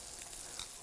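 Scallops searing in a hot pan, a brief, faint, steady hiss of frying with no talking.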